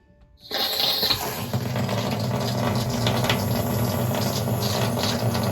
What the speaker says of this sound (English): So we just have the faucet here. So we're going to run first the hot.